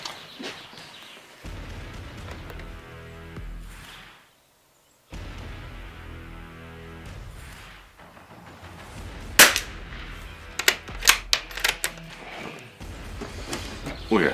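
A Christensen Arms Ranger carbon fibre rifle firing a group of shots, a few sharp cracks clustered late in the stretch after quieter mechanical handling and background noise.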